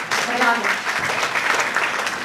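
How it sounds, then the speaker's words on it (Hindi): An audience at a voter awareness programme breaks into clapping, with a voice speaking briefly at the start before the applause fills the room in a dense, fairly close wash. "इनके लिए तालियां बजाइए"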